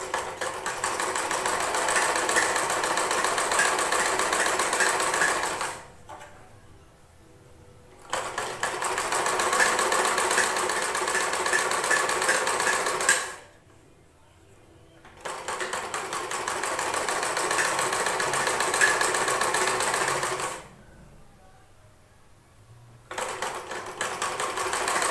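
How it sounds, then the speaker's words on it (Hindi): Sewing machine stitching fabric for a latkan tassel, running in three long steady whirring bursts with brief quiet pauses between them, close and clear with no talk. "इसी तरीका से देखिए हमें सिलाई करते जाना है इन पर।"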